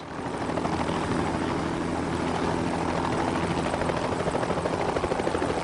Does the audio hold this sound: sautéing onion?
no